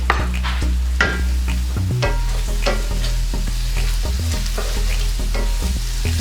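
Meat with garlic and onion sizzles and fries in a pan, a dense continuous crackle close up with frequent scraping stirs and a low steady hum beneath.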